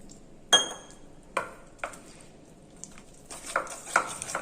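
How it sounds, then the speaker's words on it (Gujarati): Cornflour slurry mixed with water in a bowl, with a spoon giving a handful of sharp clinks and taps against the side, spaced irregularly, then quicker stirring at the end. "હવે તેમાં થોડું થોડું પાણી એડ કરતા જશું અને મિક્સ કરતું જવાનું છે"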